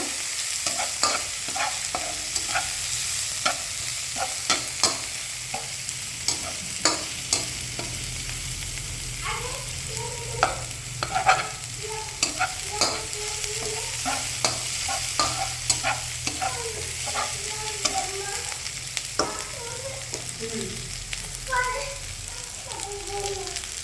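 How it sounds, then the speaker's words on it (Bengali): Chilies fry in a pan for khichuri, sizzling steadily while a utensil scrapes and stirs in frequent irregular strokes, with children's voices and talk faintly in the background. "মরিচটাকে ভালো করে আগে আমরা ভেজে নিব"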